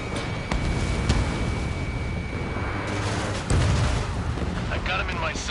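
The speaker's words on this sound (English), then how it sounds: "Missile launched." A missile launches in the video game Ace Combat 7 with a loud roaring rush and booming thuds over a constant jet-engine drone, while a voice speaks over it.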